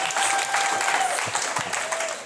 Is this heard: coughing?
no